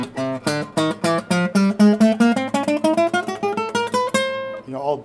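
Acoustic guitar with a poorly set up neck, played as a rising run of plucked notes that ring with a harsh, buzzy rattle, close and loud, ending with a few lower notes after a pause.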